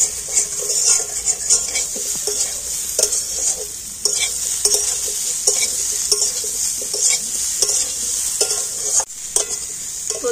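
Potatoes and chunks of taro frying in hot oil in a kadai, with a steady bright sizzle throughout and intermittent scraping and stirring knocks from a spatula, close and fairly loud.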